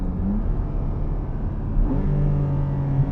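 A Porsche 718 Cayman GTS 4.0 with a flat-six engine and dual-clutch gearbox, launching from a standstill: a steady, close engine drone that climbs in pitch partway through and holds a strong, even note to the end.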